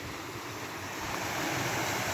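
A small creek in a wet autumn woodland on a ridge hike gives off a broad, even rush of flowing water that runs faintly and steadily without voices.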